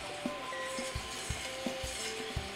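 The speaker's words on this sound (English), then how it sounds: "Add our sugar." Sugar and water stirred in a pot for simple syrup, soft rhythmic scraping with regular light knocks of a utensil against the pot, quiet and close.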